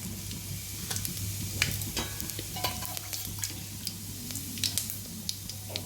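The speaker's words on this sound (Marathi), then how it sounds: "तेल छानपैकी तापलेलं आहे यामध्ये मोहरी आणि जिरे घालू" Seeds crackle and sizzle in hot oil, scattered sharp pops over a low steady hiss, close up and fairly quiet.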